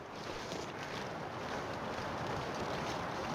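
Steady, heavy wind roars without a break in the survival game The Long Dark, a dense, constant rush that fills the whole stretch.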